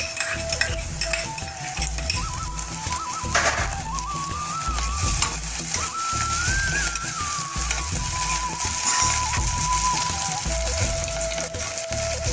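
Onion, green chili and ginger fry and sizzle in a pan, a steady hiss with repeated stirring and scraping of a utensil against the metal. A faint tonal whine drifts through the background.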